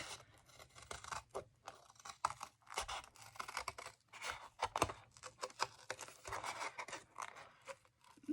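Scissors snip through paper in quick, uneven cuts, with crisp crunching and rustling; quiet and close.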